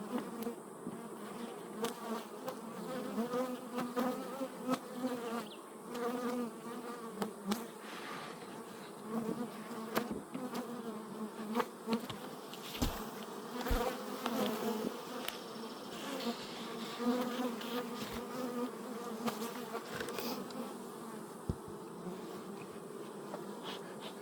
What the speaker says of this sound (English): So I'm going to shake all those bees off